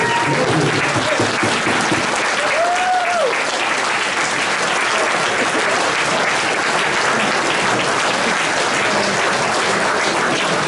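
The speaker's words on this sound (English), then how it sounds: "Let's all stand up and give a collective round of applause to all of our honorees for the class." A standing audience gives sustained, loud applause to Hall of Fame honorees at a ceremony, with dense clapping that stays even for about eleven seconds and a brief faint voice partway through.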